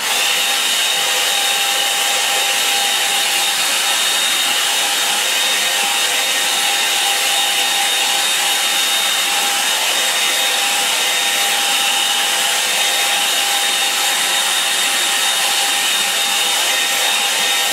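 Hair dryer blowing on a watercolour painting of a snowy Surrey landscape, a steady close whirring roar with a constant whine, unbroken for the whole stretch and with no talking.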